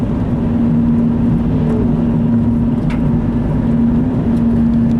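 A school bus drives past on a road, a steady loud engine drone with a low hum running throughout, close by and without speech.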